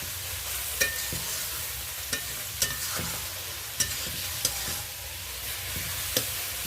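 Onion, green chili and tomato sizzle in hot oil with spices in a pan, a steady close hiss broken by regular clinks and scrapes of a stirring utensil, no voices.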